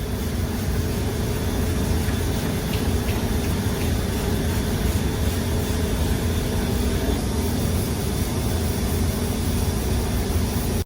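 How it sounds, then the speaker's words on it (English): A dual-action sander grinds primer off the body panels of a classic Mk5 Ford Escort, producing a continuous, even whirring rasp that stays loud and steady throughout. "I used the DA sander to sand down all the big bits of primer."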